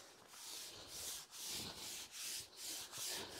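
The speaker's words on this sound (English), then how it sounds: "I've got to use a stiffer brush because it's going off a bit" Stiff brush scrubbing two-part resin grout across porcelain patio slabs in rhythmic strokes, each a broad, close, loud rasp with short pauses between, no talking.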